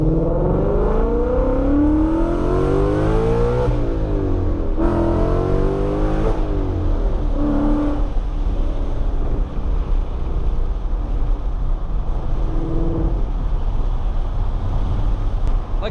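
A Ford Mustang with an aftermarket exhaust revs repeatedly, its deep rumble climbing and falling in several swelling pulls before settling into a loud, rough idle, with some wind buffeting the microphone and no talking.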